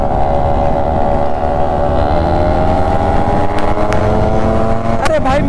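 Yamaha RX135 two-stroke motorcycles, one of them tuned, race side by side in a rolling race, loud steady engine drone with wind rush, heard up close from a moving bike while riders talk.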